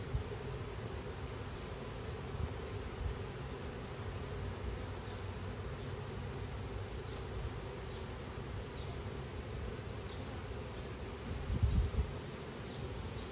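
A honeybee swarm hums steadily outdoors in a backyard, a dense, continuous buzz of many bees fanning with no pauses, fairly close and even throughout.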